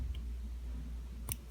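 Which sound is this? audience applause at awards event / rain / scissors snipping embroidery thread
scissors snipping embroidery thread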